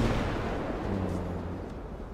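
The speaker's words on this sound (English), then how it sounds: "a lot of explosions happening over here" Explosions in the GTA V video game roll as broad, low booming rumbles in the distance, continuous and moderately loud, with no talk over them.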